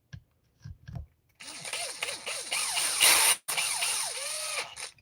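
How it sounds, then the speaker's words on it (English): A power driver spins a screw into a metal Arrma carbon chassis, a fast whirring drive with rising and falling pitch lasting a few seconds and briefly cutting out, after a few faint clicks and without talk. "screwing into metal with a driver super fast."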